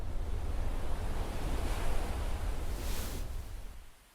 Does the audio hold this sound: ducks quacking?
no